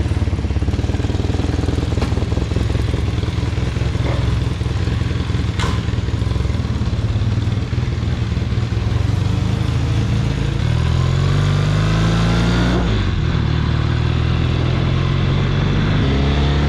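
A vintage motorcycle engine runs steadily through the whole stretch, loud and close, with a low droning rumble, a few throttle swells and a clear shift in pitch near the end as it gets under way.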